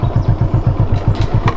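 A motorcycle engine runs nearby in first gear, giving a steady, fast, rhythmic thumping pulse with a light mechanical clatter on top. No one speaks over it.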